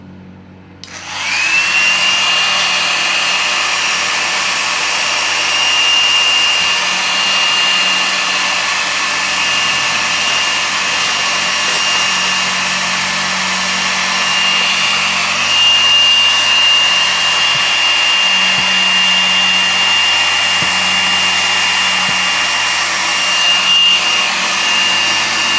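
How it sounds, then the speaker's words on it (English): A hairdryer runs steadily for about 25 seconds, loud and close, heating acrylic paint poured on a wood round, with a constant whine over its broad airflow roar and no talking. "I'm just going to use my hairdryer for right now"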